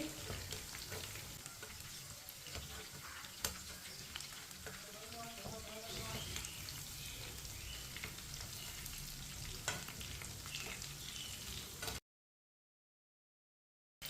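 Chicken pieces frying in a pan over a low flame, a continuous crackling sizzle with occasional pops and a faint voice under it, cutting to silence near the end.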